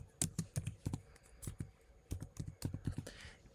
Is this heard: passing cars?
no